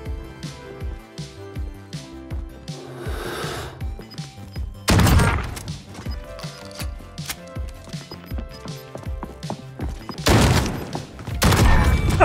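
Gunfire in Call of Duty Modern Warfare during an online gunfight, with bursts of loud, dense shots around 5 seconds and again from 10 seconds onward, separated by quieter stretches of game noise.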